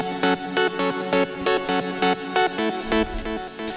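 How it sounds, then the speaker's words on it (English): A Serum synthesizer patch from Splice plays in Ableton Live, a bright chordal synth stabbing in a steady, rapid repeating rhythm with a low bass swell near the end, loud and alone without voices. "It's a Serum synthesizer here."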